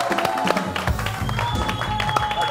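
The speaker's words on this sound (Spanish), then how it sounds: "Por favor, un gran aplauso para el flaco, el señor Paul Vázquez" Studio audience on a Spanish-language TV variety show applauds and cheers as a guest comedian arrives, a steady crowd wash of clapping with a host's voice speaking over it throughout.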